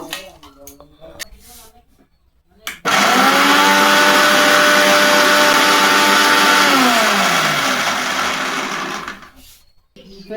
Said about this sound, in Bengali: মিক্সচার মেশিনে এটাকে এবার মিক্সি করে নেব।